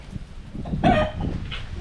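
A big rooster gives a short, loud crowing call close by in an Indonesian silversmithing town, rising above a low outdoor background.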